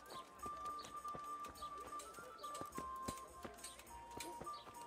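Horse hooves clip-clop in a steady walking rhythm in the video game Kingdom Come: Deliverance, fairly quiet, with a faint tonal hum behind them.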